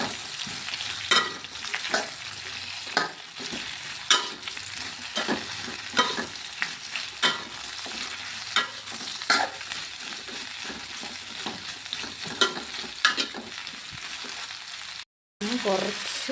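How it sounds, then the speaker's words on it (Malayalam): A Kerala taro stem stir-fry being stirred in a hot pan, with repeated scraping strokes at an uneven rhythm over a continuous close sizzle and a brief dropout near the end. "ഇളക്കാട്ടോ."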